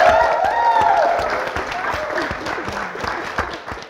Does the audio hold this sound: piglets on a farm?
no